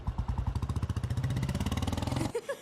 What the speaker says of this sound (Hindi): मैं बाइक पार्क करके आता हूँ।